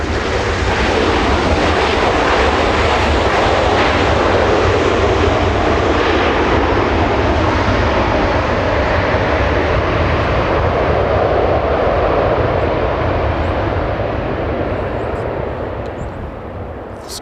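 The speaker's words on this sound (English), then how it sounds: "Trent 700s have a nice reverser sound, don't they?" An Airbus A330 with Rolls-Royce Trent 700 engines roars through thrust reverse after landing at Los Angeles International Airport, a loud sustained broadband rush that slowly fades toward the end.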